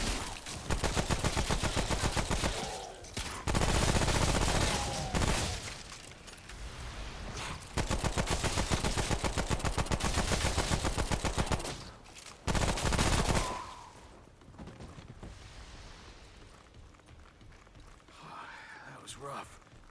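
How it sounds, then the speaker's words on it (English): Rapid gunfire in the video game Remnant, long dense bursts of fast shots that stop and restart several times, loud and close, with brief quieter gaps. "if you like to fire a lot of bullets, good build"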